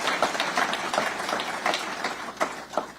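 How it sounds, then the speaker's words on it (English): A crowd at an awards announcement event applauds steadily, the claps dense and moderately close, with no speech over them. "And another round of applause for the good work that you're doing out here."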